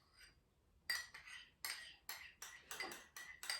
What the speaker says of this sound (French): on va mélanger dans un bol le yaourt, le jus de pomelo, l'huile et le persil